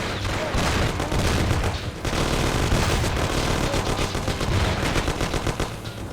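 Shootout gunfire from Mafia: The City of Lost Heaven, with loud continuous automatic bursts and overlapping shots filling the whole stretch, briefly dipping before resuming.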